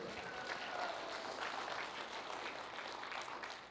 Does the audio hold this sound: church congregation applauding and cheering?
yes